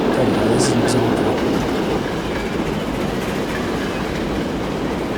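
Train running on rails in Transport Fever 2, a loud steady rumble with clickety-clack wheel noise throughout, with a brief higher squeal near the start.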